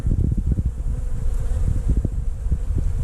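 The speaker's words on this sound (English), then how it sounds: "Bees over on the new Man Lake Foundation." Honey bees buzzing in a hive housing a collected swarm, a dense, steady hum close by with sharper individual bee passes rising out of it throughout.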